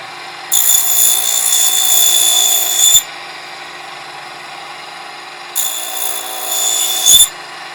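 Miniature table saw cutting a dado into a thin wood strip for 1:12 scale benches: two high-pitched whining bursts of the spinning blade, each lasting a couple of seconds, separated by a quiet pause.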